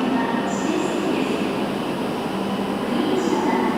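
A green Shinkansen bullet train in Japan rushes past as a steady, loud rolling roar with faint wheel squeal, continuous throughout and with no talking over it.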